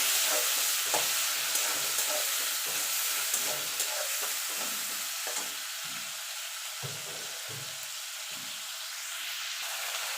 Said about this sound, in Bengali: এই তেলে চিংড়ি মাছগুলো হালকা করে ভেজে নেব